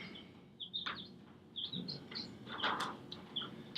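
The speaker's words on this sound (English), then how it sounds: "You might hear some chirping. I got some baby chicks in the house." Four baby chicks cheeping indoors, a scatter of thin high peeps in short bursts and clusters, faint and close, over a quiet room with soft rustling.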